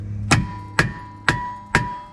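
Four evenly spaced metallic hammer strikes on the hat of a brake rotor on a 2011 Lexus RX350 ring out, each blow leaving a brief resonant ring before the next, close and fairly loud.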